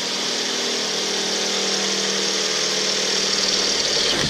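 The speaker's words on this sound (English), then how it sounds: "let the drill do the work" Continuous loud whine of a power drill grinding through thin sheet metal on a Jeep Wrangler JK hood, harsh and steady throughout, rising slightly near the end.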